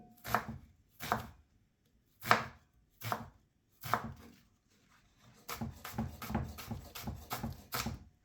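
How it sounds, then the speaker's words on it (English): Onions chopped with a knife on a board, a series of separate firm thuds at first, then faster, closer chopping strokes running together toward the end, no voices. "We're going to chop up our onions here now."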